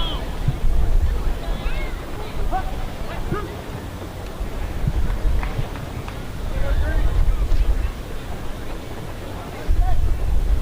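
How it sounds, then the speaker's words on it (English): Gusting wind at a baseball game in Victoria buffets the microphone in a rough, uneven roar that swells and eases, with crowd and ballpark ambience beneath. "The wind continuing to gust out."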